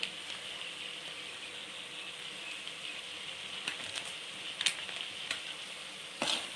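Chicken masala sautéing in a pan for pasta makes a faint, even background sizzle, with a few brief sharp clicks and scrapes of a utensil toward the end and no talking.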